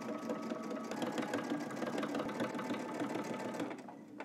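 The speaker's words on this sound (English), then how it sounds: "let's go ahead and stitch in the ditch and we'll continue" Sewing machine stitching in the ditch along a garment waistband, a close, steady, rapid mechanical whirring and ticking that runs without pause, easing slightly at the end.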